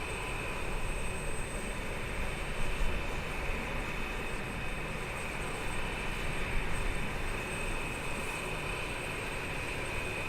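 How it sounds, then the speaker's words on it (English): Continuous roar of BAE 146 airliner jet engines in Microsoft Flight Simulator 2020, a steady broadband rush with a high whine held throughout, loud and unchanging. "this airplane is pretty noisy"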